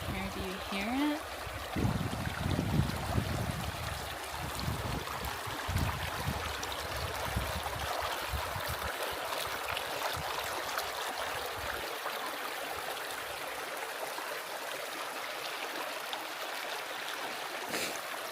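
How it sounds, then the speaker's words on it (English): A mountain stream flows with a continuous, soft rushing and trickling wash, faint and steady throughout, with some louder handling noise early on. "Oh my gosh, nice flowing water"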